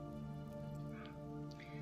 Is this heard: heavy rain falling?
yes